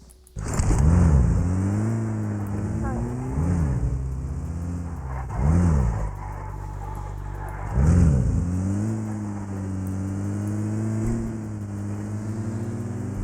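A vehicle driving in PUBG Mobile on Erangel, its mid-pitched engine droning steadily and revving up in several distinct surges, moderately loud and close.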